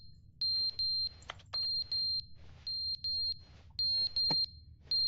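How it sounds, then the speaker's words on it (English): A smoke alarm that needs its battery changed beeps repeatedly in short high-pitched bursts, fairly loud and close, with a low background rumble and occasional clicks between beeps. "Forgot to change the fire alarm."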